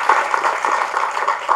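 An audience applauds a film director at a movie audio launch, a steady dense clapping from a crowd that sounds close and fairly loud throughout.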